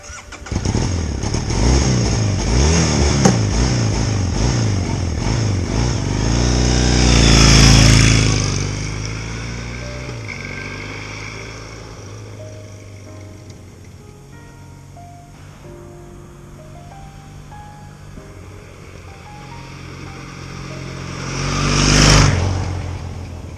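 A motorcycle engine roars past twice: the first ride-by swells and peaks near the microphone, then fades and gives way to a long quiet stretch before a second, shorter pass rushes by and trails off.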